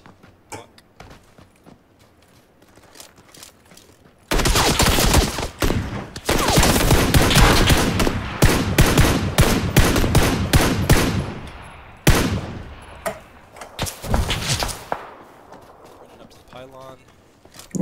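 PUBG gunfire on the North Polyana map, a loud burst of rapid repeated shots under other game sounds, then a brief pause and a second volley before fading, with faint talk in places.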